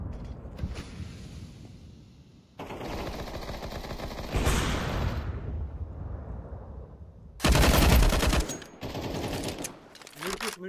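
Gunfire in the video game Counter-Strike 2 comes in separate loud bursts of rapid automatic shots, broken by quieter gaps with mechanical clicks and movement noise, while players talk in between.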